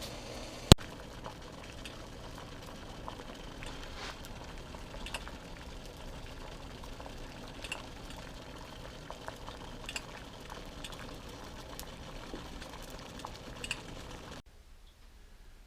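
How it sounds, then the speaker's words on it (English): Birch sap at a rolling boil in a smaller pot, giving a steady, low bubbling roar with faint crackles and occasional soft clinks, alone with no voices. "kick her up to a nice rolling boil here in a smaller pot"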